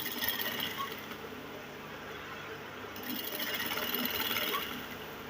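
A sewing machine top-stitches fabric on a crop top with puff sleeves, a steady close mechanical whirr of needle and motor that swells slightly louder midway, running continuously.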